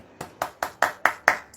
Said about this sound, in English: there's someone, first of all, I would like to clap for